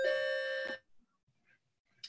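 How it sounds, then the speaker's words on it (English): A door chime sounds on a participant's end of a video call: one sustained electronic ding-dong tone that cuts off abruptly, followed by faint thumps and a quiet, brief noise burst. "so I don't have to hear everybody's door chimes"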